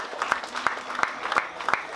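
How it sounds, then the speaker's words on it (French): Scattered applause from a small crowd at a presentation of amateur cyclists, with a handful of sharp, distinct claps in an irregular rhythm at moderate distance and little else. "Eh bien bravo, on peut l'applaudir."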